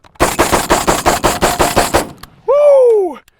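A semi-automatic 12 gauge shotgun fires about nine loud, close shots in a rapid, even string, then stops; a short high whistling squeal follows the last shot.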